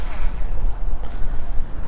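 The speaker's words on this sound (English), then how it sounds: "That wind is brutal." Strong wind buffets a fishing boat out on the water, a steady, loud broadband roar with heavy low rumble and no clear pauses.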